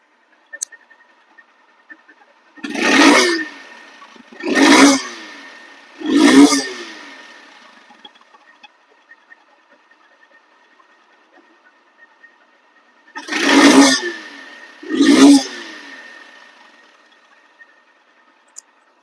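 Honda CBS Hornet motorcycle, a second-hand bike with about ten thousand kilometres on it, revved five times in short throttle blips, three in quick succession and then two more after a pause, each rising and falling over a quiet idle.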